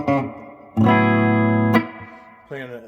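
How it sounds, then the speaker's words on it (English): An Epiphone Dot guitar with humbuckers plays through a Roland Cube 80X on the JC Clean setting with digital reverb: a short note, then a sustained bright chord ringing for about a second, and another chord near the end. "this is the Roland JC Clean"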